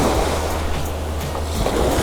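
Rough sea waves roll onto Miami Beach in a steady, loud wash of surf, with wind buffeting the microphone and no voices heard.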